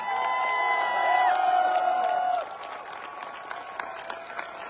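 An audience claps and cheers loudly at a motivational stage event, with whoops on top, then the applause drops to a lighter, thinner patter.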